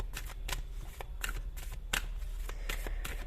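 Tarot cards shuffled and drawn for a horoscope reading, a close, steady run of quick riffling and papery slaps in irregular bursts, with no voices.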